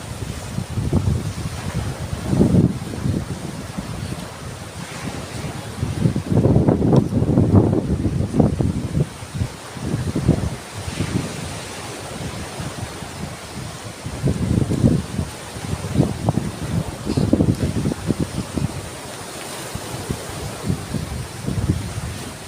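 Strong northeast monsoon wind buffets the microphone on Burias island during a low-pressure system, with surging gusts and the rumble of rough waves swelling and fading over a long stretch, loud and close.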